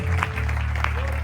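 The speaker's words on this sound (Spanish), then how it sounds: "¡Este aplauso para el Señor!" Church congregation clapping together during a worship service, a steady brief burst of applause with a voice speaking over it.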